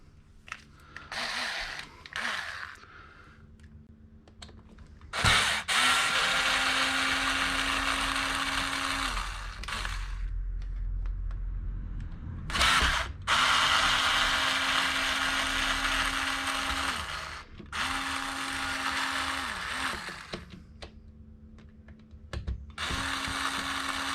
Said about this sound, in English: to get to the receiver box, we need to basically undo a couple of screws here